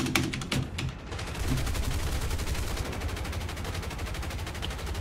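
Aircraft gunfire around an RAF Lincoln bomber formation in War Thunder: rapid, continuous machine-gun bursts, loud and close, rattling steadily after a few sharper opening shots.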